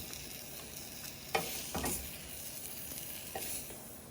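Sausages frying in a pan give off a quiet, steady sizzle, broken by a couple of sharper stirring scrapes and pops partway through.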